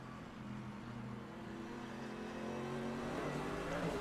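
A GT3 race car engine in a sim racing championship on the Nürburgring Nordschleife, faint and distant, revs gradually upward in pitch, its whine rising and growing slightly louder toward the end.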